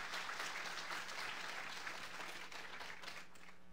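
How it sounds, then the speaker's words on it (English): Church congregation applauding in a new building, a broad continuous wash of clapping from many hands, steady and fairly distant, tapering slightly at the end. "Let's give a round of applause just for God providing this new building."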